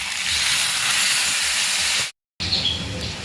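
Water poured into a hot pan of spice-coated vegetable stalks bursts into a loud, steady hissing sizzle close by, cuts off abruptly, then resumes at a lower, bubbling level.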